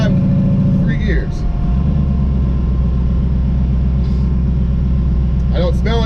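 A twin-turbo Camaro engine rumbles steadily on a street drive, a loud continuous low drone with a brief dip near the start; a voice talks over it in places.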